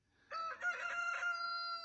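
A single rooster crows once, a clear drawn-out call close by in a quiet setting.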